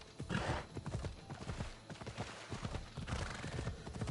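Horse hooves clip-clop steadily at a trotting rhythm in Assassin's Creed Odyssey, moderately close with a faint whinny-like tone mixed in, no voices.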